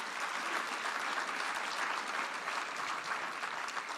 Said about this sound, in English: A round of applause for everyone tonight.